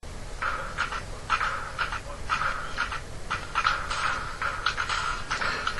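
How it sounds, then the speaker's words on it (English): Dogs bark repeatedly outdoors at a moderate distance, in uneven clusters of sharp yelps that continue steadily over a low background rumble. "You might be able to hear those barking dogs."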